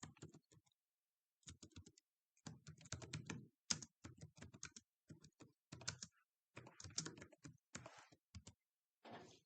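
Computer keyboard typing up close, with bursts of rapid key clicks broken by short pauses and a few sharper taps.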